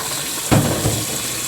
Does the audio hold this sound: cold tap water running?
yes